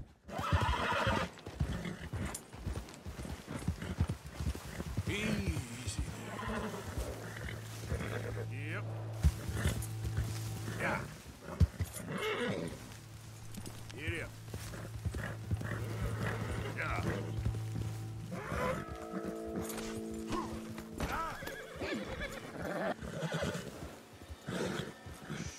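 Horse whinnies and clip-clopping hooves over an orchestral score in Red Dead Redemption, with a voice speaking at times and steady background effects.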